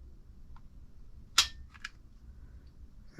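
Dry-fire trigger pulls on an unloaded Sig P320 pistol with a KGM enhanced trigger package, measured with a trigger gauge: one sharp close click followed by a couple of fainter mechanical clicks in a quiet room.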